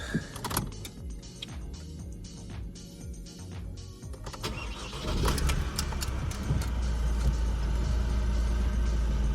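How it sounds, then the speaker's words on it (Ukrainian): Mechanical clicks and whirring, then the 1.6 diesel engine of a 2017 Opel Astra K cranks and catches, settling into a steady, loud idle rattle. "Так, заведемо автомобіль."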